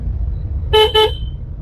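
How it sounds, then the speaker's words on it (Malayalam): Two short car horn honks in quick succession, loud and close, over a low rumble of road noise. "ഹോണടിച്ച്"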